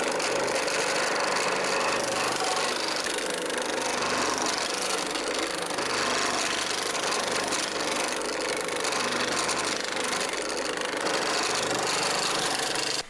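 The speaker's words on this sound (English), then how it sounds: "This is called thumbnail shrinking die. So as the metal goes in, I'll just give you a demonstration." A thumbnail shrinking die gathering sheet metal gives a loud, continuous, harsh rattling drone that is dense and unbroken, heard close up for the whole stretch.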